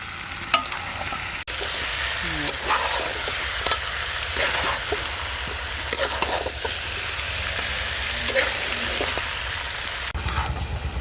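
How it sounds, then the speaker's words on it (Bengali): Potatoes fry together with pieces of red country chicken, a loud steady sizzle with frequent scraping and knocking of a stirring spoon against the pan, heard without speech. "আলুটা কিছুক্ষণ মাংসের সাথে ভেজে ঝোলের জন্য জল দিয়ে দেবো"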